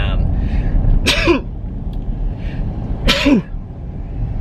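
Two sharp sneezes about two seconds apart, each a sudden burst with a voiced tail, close to the microphone over a low rumbling background.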